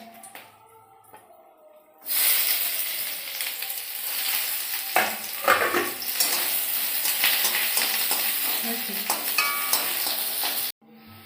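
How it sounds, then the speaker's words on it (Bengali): Onions sizzle in hot oil with dried red chillies for a hilsa fish dish, a loud close crackle that bursts in after a quiet start and runs steadily with stirring clinks, then cuts off abruptly. "এই যে বন্ধুরা আমার পেঁয়াজটা ভাজা হয়ে গেছে"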